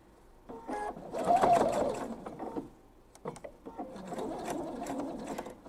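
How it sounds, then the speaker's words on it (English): Close sewing machine stitching fabric for a thread catcher, running back over earlier stitching in two bursts with a brief pause between, loud and mechanical with faint rattling. "I'm going to stitch this side down first, right on top of the previous stitching"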